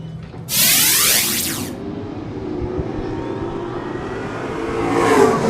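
Pro stock race cars sweep past the start-finish line at Seekonk Speedway, one loud engine roaring by with a sharp Doppler drop, followed by a lingering rumble of the field and another car approaching at the end.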